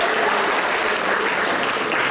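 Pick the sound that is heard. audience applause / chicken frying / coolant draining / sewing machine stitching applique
audience applause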